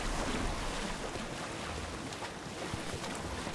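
A boat glides over open sea in Assassin's Creed Odyssey, with continuous rushing water, waves and wind noise at a steady, moderate level and no talking.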